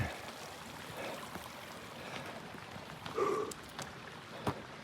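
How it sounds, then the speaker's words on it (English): A mountain stream on the John Muir Trail near Mather Pass gives a soft, continuous wash of flowing water, with a few brief splashes and knocks standing out near the end. "We've crossed this river now a number of times. Stream."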